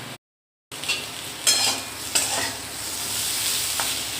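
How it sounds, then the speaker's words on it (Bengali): Teasel gourd and potatoes fry in a pan, a continuous close sizzle broken by a few spatula scrapes and stirs, after a brief moment of silence at the start. "এখন কাঁকরোল আলু ভাজছি, এটা তরকারি করব।"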